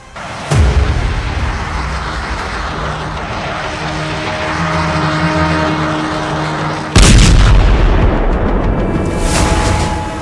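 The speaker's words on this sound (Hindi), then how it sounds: "पश्चिमी यरूशलेम में मिसाइल अटैक, तेल अवीव के करीब बेत शेमेश में हमला।" Two heavy booming blasts from a missile attack on West Jerusalem and Beit Shemesh in Israel, the second louder, each trailing into a roaring rumble between them.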